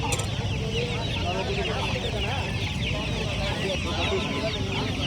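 Fancy ornamental chickens cluck at a busy village poultry market in Mydukur, their calls steady and close amid a dense crowd murmur and voices throughout.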